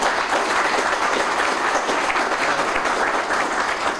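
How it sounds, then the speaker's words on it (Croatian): At a book launch event in Zenica, an audience applauds the book's author with steady, dense clapping that stays loud and even throughout. "A sada ću vas zamoliti da jednim aplauzom pozdravimo autora knjige"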